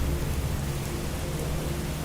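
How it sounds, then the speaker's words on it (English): Heavy, steady rain pours down on an island while low thunder rumbles underneath, a dense, continuous wash of noise with no voices. "It's just the rain."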